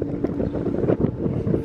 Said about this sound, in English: It's pretty windy out right back here.